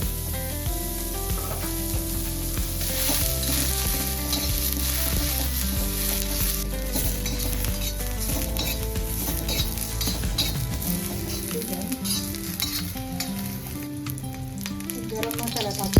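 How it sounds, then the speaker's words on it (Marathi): Garam masala roasting in a pan for a drumstick fry, a dense close sizzle with busy rhythmic stirring and scraping of a spoon against the metal, loud and continuous. "गरम मसाला टाकून घेते थोडा भाजून घ्यायला."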